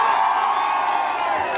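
Audience at a show applauding and cheering for a singer who performed a Nepali song, a dense steady wash of clapping and shouts filling the whole short stretch.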